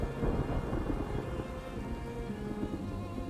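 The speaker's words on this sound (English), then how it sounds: "the thunder in game does really sound" Thunder rumbles in the colony builder game Farthest Frontier, a continuous deep roll under steady rain, fairly loud, no talk.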